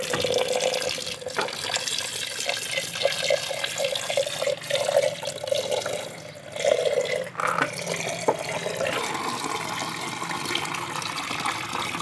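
Running tap water pours steadily over metal pieces from a scrapped China-made mobile phone being rinsed of ash during gold recovery, a close, continuous splashing stream with brief interruptions as the pieces are moved under the flow.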